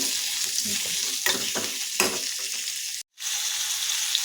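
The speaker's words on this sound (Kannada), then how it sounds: "ಈ ಥರ ನಾಲ್ಕು ಸ್ಪೂನ್ ಎಣ್ಣೆ ಹಾಕ್ಕೊಂಡು ಹಾಕ್ಕೋಬೇಕು ಈ ಥರ ಇದನ್ನು ಸ್ವಲ್ಪ ಗೋಲ್ಡನ್ ಬ್ರೌನ್ ಬರೋದು ಹುರ್ಕೋಬೇಕು" Eggplant fries in about four spoons of oil in a pan over medium flame, giving a steady loud sizzle. A spoon stirs it now and then with scraping strokes. There is a brief gap near the end.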